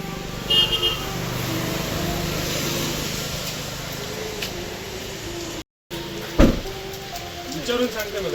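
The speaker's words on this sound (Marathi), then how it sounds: "आज सकाळपासून जोरात पाऊस पडत" Steady, dense hiss of heavy monsoon rain in Devgad runs throughout, with a passing vehicle and a brief horn-like burst, and faint voices in the background.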